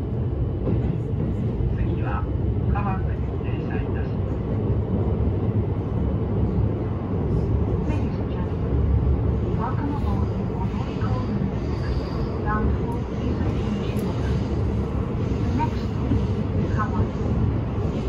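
Steady low rumble of an E257 series Odoriko limited express train running, heard from the green car, with faint rattles and squeaks over the continuous roar; fairly loud and even throughout.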